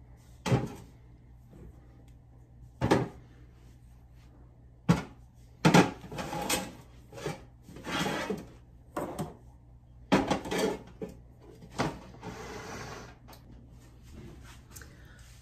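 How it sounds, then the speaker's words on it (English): Glass canning jars set one by one into the bottom of a slow cooker, giving a series of separate clinks and knocks spaced a second or two apart, fairly close and clear over a quiet room. "We're going to put all of our jars directly in to the bottom of our slow cooker."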